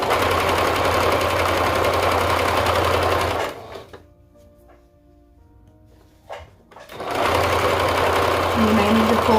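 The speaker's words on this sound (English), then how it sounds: "I'm just going to sew a zigzag stitch around here just to top stitch it" A sewing machine runs a zigzag top stitch along the edge of ruffle shorts, with a loud steady motor whir that stops for a few seconds of near quiet and then starts up again at full speed.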